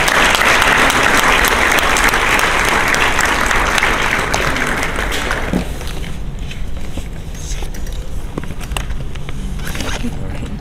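An audience applauds loudly and steadily to welcome Dr. Will Tuttle at an evening presentation on food and healing, the clapping dense at first, then thinning and fading.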